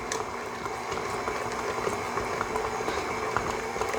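A kitchen appliance whirs steadily for a few seconds, briefly mixing chocolate chips into bourbon pie filling, giving a constant moderate churning hum with faint rattling.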